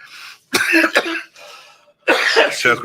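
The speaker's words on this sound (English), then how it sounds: "That's a goofy cough." Two rough, harsh coughing fits close to the microphone, separated by a short wheezy pause, the second burst hacking and throaty.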